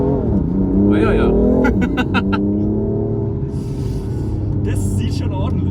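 The engine of a 450 hp BMW M4 Competition rumbles deep and loud at close range, rising and falling in throaty revs, while voices talk over it.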